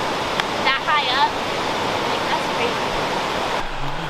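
Rushing river water on the Little River Trail in the Smoky Mountains, running high with strong current, makes a steady broadband roar throughout, with brief faint voice-like sounds early on.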